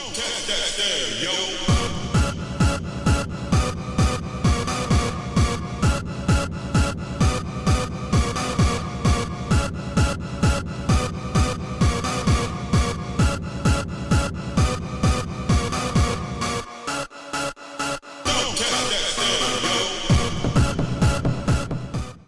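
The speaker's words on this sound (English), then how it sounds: "This one epitomized aggression in the in-your-face style, again, and considered a hardcore track." A pounding hard techno track with a relentless, aggressive four-on-the-floor kick and dense distorted layers. It drops briefly into a sparse break before the driving beat slams back in.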